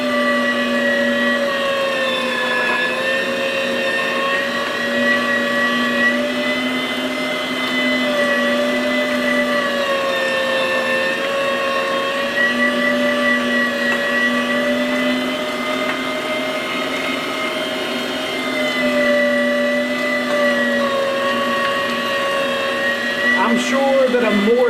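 A Harbor Freight electric meat grinder churns wild hog meat for sausage with a loud, continuous motor whine. Its pitch sags and recovers slightly as chunks feed through, and it runs close and steady throughout.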